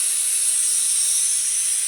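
A loud, steady hiss of steam escaping under pressure from a pressure cooker cooking semolina idli, continuous and close, with no other sounds.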